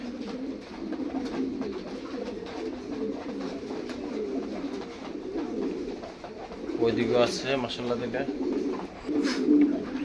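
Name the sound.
Lahori pigeons cooing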